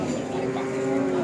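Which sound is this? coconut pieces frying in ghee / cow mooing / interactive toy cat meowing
cow mooing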